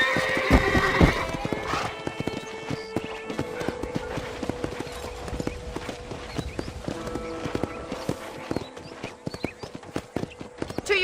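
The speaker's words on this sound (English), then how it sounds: "Okay, let's see if you can still ride a horse." A horse in the video game Red Dead Redemption whinnies, then its hooves clip-clop in a steady rhythmic beat that continues close and clear throughout.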